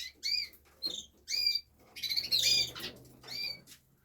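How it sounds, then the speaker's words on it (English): Canary cock birds in an indoor bird room sing with repeated bright chirps and whistled phrases in several bursts, one busier overlapping flurry in the middle, moderately close over a low background hum. "the noise can be quite deafening when all your cockbirds are singing"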